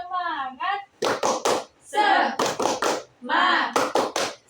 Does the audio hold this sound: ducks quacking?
no